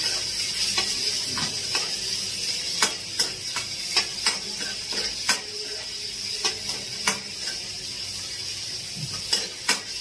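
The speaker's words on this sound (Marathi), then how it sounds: "आता आपण त्यामध्ये बारीक केलेला कांदा एकदम असा लाल होईपर्यंत मस्त फ्राय करत राहायचं।" Finely chopped onion fries in a pan, giving a continuous sizzle broken by sharp ticks and scrapes as a spoon stirs and knocks against the pan at irregular intervals.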